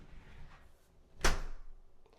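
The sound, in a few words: door closing against new weather stripping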